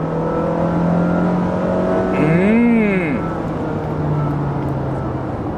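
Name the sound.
Honda Freed car engine accelerating in S range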